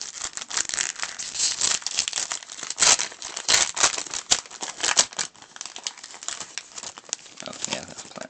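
Pokémon card packs from a Raikou tin being torn open, close crinkling foil wrappers and ripping with sharp bursts of rustling, loud and busy throughout.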